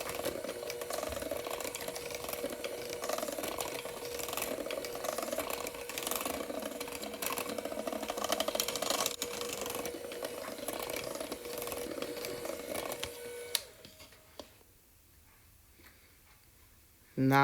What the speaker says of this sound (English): Then I'll add 1 cup almond flour and mix it on low speed.